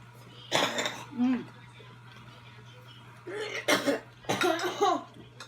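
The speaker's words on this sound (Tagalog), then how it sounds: "Ubo." A few sharp coughs break out close by, spaced apart, with faint voices and a low steady hum underneath.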